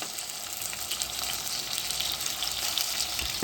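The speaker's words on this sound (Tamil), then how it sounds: "நடுப்புற போட்டுட்டா தக்காளி நமக்கு வதங்கிடும் ஈஸியாக." Brinjal and tomato sautéing in a pan, a soft, steady frying crackle with light stirring, close but fairly quiet and continuous, with no talking.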